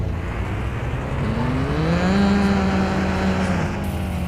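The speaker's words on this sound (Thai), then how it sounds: "ได้เวลาฟังเสียงเทอร์โบ" Car engine with a turbo in the mobile driving game Car Parking Multiplayer, a steady loud drone that swells and rises in pitch midway as the car accelerates, then levels off, with no talking.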